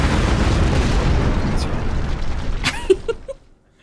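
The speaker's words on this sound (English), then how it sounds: "it's gonna explode" A loud boom as the bomb detonates in Keep Talking and Nobody Explodes, a rumbling blast fading over a few seconds, with short clicks and beeps near the end before silence.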